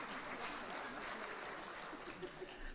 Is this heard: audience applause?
yes